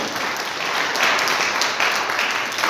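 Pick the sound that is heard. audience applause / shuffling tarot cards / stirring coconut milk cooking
audience applause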